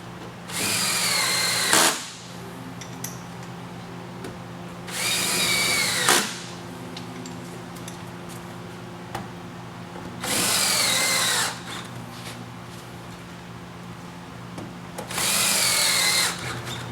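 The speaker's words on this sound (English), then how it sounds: "we're going to go ahead now and run in the rest of the attachment screws" A power drill drives attachment screws in four strong, even bursts of about a second and a half each, separated by quieter pauses over a steady low background hum.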